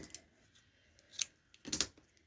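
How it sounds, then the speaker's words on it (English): A few quiet snips of scissors cutting fabric, sparse and close, with short gaps between the cuts in an otherwise silent room. "Scissors."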